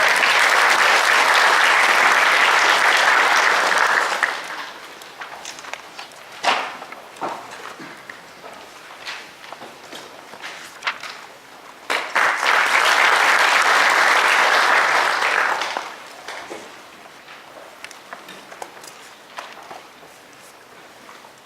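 Sustained applause from a large audience at a live urban regeneration event swells twice, welcoming a keynote speaker, fading into scattered claps and footsteps between the two long bursts.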